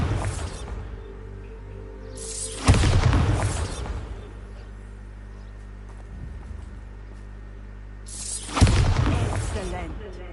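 Two loud booming blasts from the Bombarda spell in Hogwarts Legacy, roughly six seconds apart, rising over a low game ambience while a voice talks in between.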